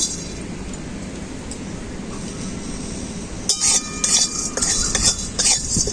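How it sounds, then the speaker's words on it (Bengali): Whole cumin, coriander, black pepper, cinnamon, cloves, cardamom and fenugreek dry-roasting in a wok for ghugni, stirred with a utensil; a low steady hum at first, then scraping and clinking strokes of the spoon against the metal wok. "গোটা জিরে, গোটা ধনে, গোটা গোলমরিচ, দারুচিনি, লং, এলাচ আর কেশরে মেথি একসাথে শুকনো কড়াই ভেজে নেব।"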